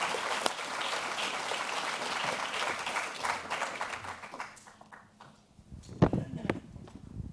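An audience at a business school event applauds the presenting teams, a broad wash of clapping that thins out after a few seconds, followed by scattered handling knocks and a few spoken words.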